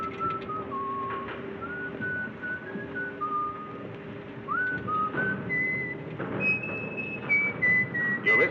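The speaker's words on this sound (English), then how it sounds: "You're whistling, sailor." A sailor aboard a ship whistles a slow, wandering tune alone, clear and moderately close, with sustained notes and slides over a low engine-like hum.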